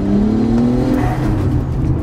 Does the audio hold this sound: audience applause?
no